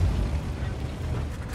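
A tank gun reloading in World of Tanks on an AMX 50 Foch B, a low mechanical rumble with faint creaking, ratcheting clicks, quiet and steady throughout.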